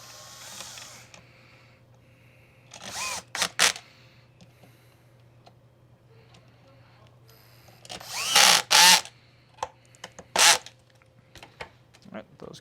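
A power screwdriver drives screws in short whirring bursts while a Kirby Sentria vacuum is reassembled, several separate runs close by with quiet handling clicks between.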